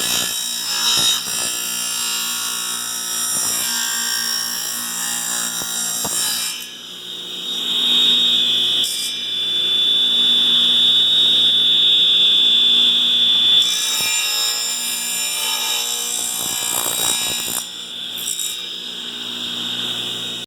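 Plywood being cut during a wrecked Monaco motorhome rebuild, a steady close rasping saw stroke with high whine, pausing briefly then resuming, loud and alone.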